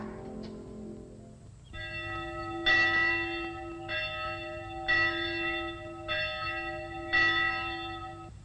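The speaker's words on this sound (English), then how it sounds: "The bells have stopped." Church bells ring in slow, steady strokes, about five sustained metallic peals with long humming tails, moderately distant and alone without any talk.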